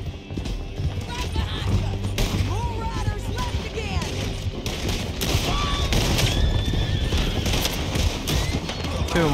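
Horses galloping in Red Dead Redemption 2, with rapid clip-clop hoofbeats under neighs and whinnies, scattered gunfire in a chaotic chase, and people talking over the action throughout.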